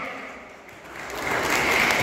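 An audience at a Malayalam mimicry show breaks into applause, starting faint and swelling into louder, steady clapping.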